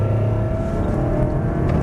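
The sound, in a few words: race car engine accelerating on track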